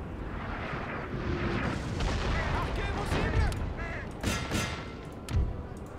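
Napoleonic-era cannons in a Napoleon: Total War battle boom several times, deep blasts scattered irregularly over a busy battlefield bed with distant crackling and bird-like calls.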